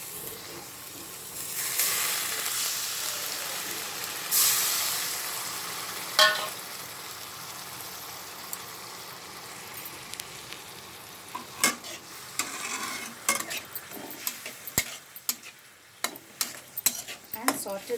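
Onion and spice masala sizzles in a pan with browned onions and a splash of water, a steady frying hiss under scraping stirs, followed by sharper clinks and taps of the utensil against the pan.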